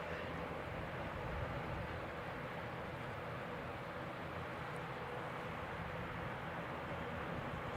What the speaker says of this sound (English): Another ATR starting up down there.